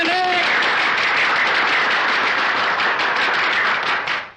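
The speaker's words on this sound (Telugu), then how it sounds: "ఏది అందరూ ఒకసారి చప్పట్లు కొట్టండి." A crowd claps loudly and continuously for several seconds, a dense wash of applause that fades at the end, with a brief voice audible at the very start.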